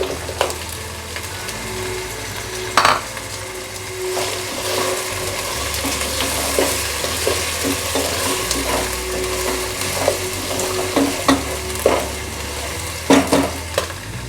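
Beef and onions sizzle steadily in a pot for beef yakhni pulao, with the spoon scraping and stirring in occasional sharp knocks, close and continuous with no talking.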